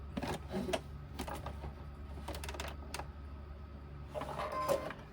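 A sewing machine basting fabric for a Lotus Lane crossbody bag runs in several short bursts of rapid stitching, with brief pauses between runs over a steady low motor hum.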